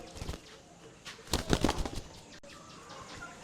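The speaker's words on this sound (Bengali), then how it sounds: "এই যে আমাদের কবুতর" Pet pigeons are heard at close range in a quiet space, with a few soft bird calls and a short burst of flapping or rustling in the middle.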